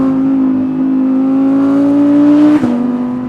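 Audi R8 GT RWD with its V10 engine revving, a loud close mechanical howl that climbs steadily in pitch, then a sharp shift blip near the end before the note settles again.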